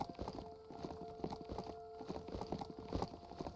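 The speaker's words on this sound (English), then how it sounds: "Let's go, my really cool mechanical horse." A mechanical horse in the video game Biomutant trots with quick, rhythmic clip-clop hoofbeats that stay close and fairly loud, backed by a faint steady tone and no talking.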